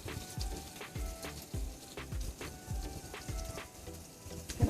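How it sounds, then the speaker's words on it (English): Whole cumin seeds frying in hot butter and oil, a steady soft sizzle with small crackling pops at a fairly even rhythm, close and fairly quiet, no talk. "I'm gonna put some zira, cumin, whole cumin. We're gonna fry this for a little while."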